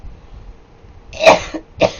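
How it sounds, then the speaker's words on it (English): Two sharp coughs close to the mic, the first harsher and louder, the second a shorter follow-up, over quiet background noise. "Why am I coughing?"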